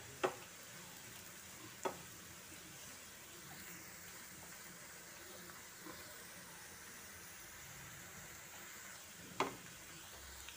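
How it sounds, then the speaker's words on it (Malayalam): Crushed chili powder frying in a pan while it is stirred, a quiet steady sizzle with a few soft scrapes and knocks from the spoon, and no voices. "ഈ മുളക് മൂക്കണ വരെ നമുക്ക് ഇളക്കി കൊടുക്കാം കേട്ടോ"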